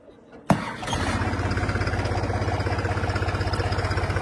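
A tractor engine near a muddy work site cranks briefly and catches with a sudden loud burst, then settles into a close, steady, rhythmic diesel idle that chugs on evenly.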